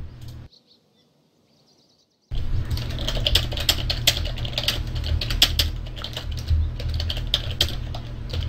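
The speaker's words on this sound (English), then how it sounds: "I was also typing a little bit, forgetting to talk." Rapid typing on a computer keyboard, close and steady with dense clicking keystrokes, begins after a brief near-silent pause and continues over a low background hum.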